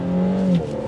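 A 2021 Infiniti Q60 Luxe pulls under throttle, its engine drone steady and close with a rising harmonic tone that eases off partway through the short burst.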